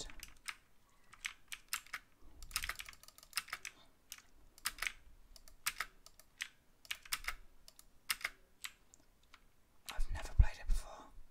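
Computer keyboard typing for a Roblox Strucid ASMR session: close, crisp key clicks in irregular bursts and short runs, with soft whispering and quiet chewing in the background.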